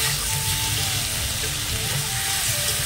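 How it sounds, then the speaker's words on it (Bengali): Pieces of meat sautéing in a pan give a steady, fairly loud sizzle with faint scraping of stirring, continuous and close throughout. "মাংস দিয়েও মাংসটাও কষিয়ে নিতে হবে।"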